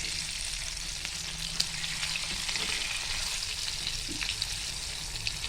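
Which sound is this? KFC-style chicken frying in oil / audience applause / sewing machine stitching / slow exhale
KFC-style chicken frying in oil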